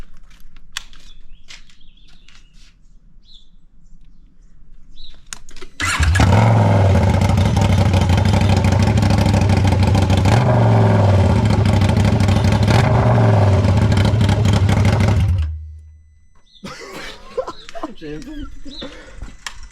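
A KTM 790 Adventure motorcycle with a full exhaust fires up and holds a loud, raw rev for about ten seconds, the engine surging in a few pulses before cutting off, with quieter sounds before and after.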